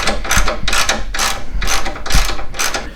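A hand ratchet clicks rapidly and close up, backing out 13mm bolts from the aluminum skid bars of a C4 Corvette in several rhythmic bursts of pawl clicks.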